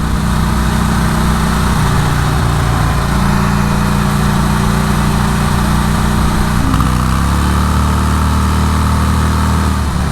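A motorcycle engine with its exhaust baffles removed runs loud and close, a throaty steady drone that shifts in pitch as it revs, with no talk over it.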